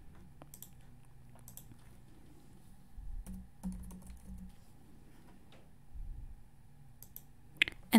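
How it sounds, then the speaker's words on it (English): Sparse keystrokes tap on a computer keyboard as a password is entered, faint close clicks scattered across quiet room tone with a few soft low thumps. "please type in your password that you use to log into your computer"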